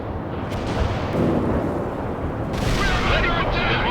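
Artillery fire in the World in Conflict video game: heavy booms and rumbling blasts burst out at irregular intervals over a dense battle din, with radio-style voices talking in between.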